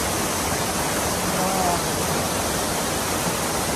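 A small waterfall about 7 meters high pours steadily, filling the air with a dense, continuous broadband roar that holds even and close throughout without pause or change.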